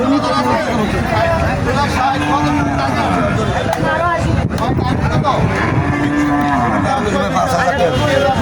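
Cattle moo now and then, deep and drawn out, through the constant chatter of a noisy crowd at a cow market in Comilla, Bangladesh, with the hum of engines in the background.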